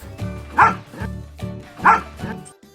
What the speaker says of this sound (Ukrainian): А скільки разів гавкнув песик?